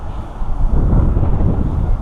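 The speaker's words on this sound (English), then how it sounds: "It's a little windy today, so just gotta get careful." Strong wind buffets a microphone outdoors beside a car body shop job, a loud, steady low rumble that fills the short stretch with no other sound.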